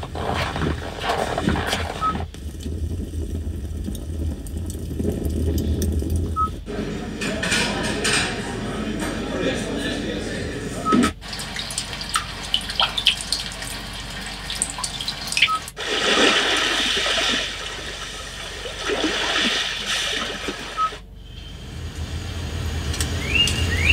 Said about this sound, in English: let me let you listen to these different ambient sounds that now come standard on the 2021 Veloster N